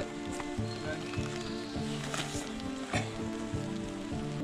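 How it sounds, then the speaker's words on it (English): Rain patters steadily on surfaces nearby at a morning campsite on the Brush Ridge Trail, a dense soft drumming with occasional louder drips, no speech. "'Tis a rainy morning at camp."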